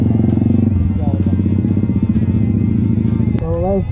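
Motorcycle ridden off-road on a muddy, slippery jungle trail in monsoon rain, a continuous close engine rumble with uneven throttle, with a voice speaking over it near the end.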